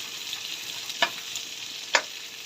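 Adobong sitaw frying in rendered pork fat, a soft continuous sizzle with two brief scrapes of a spoon stirring the pan, quiet and close, no voices.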